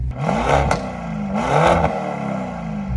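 A luxury car engine revs at close range, two rising bursts of revving with whirring and clattering mechanical texture between them, loud and alone without talk.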